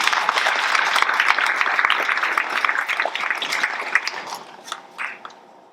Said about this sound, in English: So let's give the HR department a round of applause.